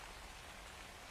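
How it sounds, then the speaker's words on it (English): Light rain falls as a soft, steady patter of raindrops, a faint, even hiss with no other sounds. "a few raindrops began falling from the dimly lit sky"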